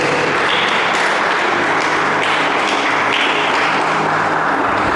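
A church congregation applauds loudly and continuously for several seconds, a dense, close wash of clapping from many hands with no break.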